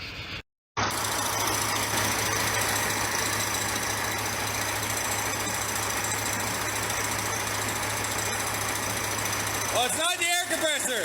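Car engine with a misfire running steadily in a shop, with a rough, uneven rumble and knocking throughout. Near the end a voice breaks in over it.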